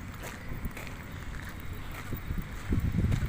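Steady wind gusts buffet the microphone outdoors at the Manila Bay shore, a low rumbling roar that swells louder toward the end.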